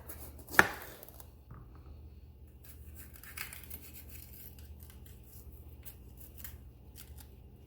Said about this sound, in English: Let me get this pepper cut.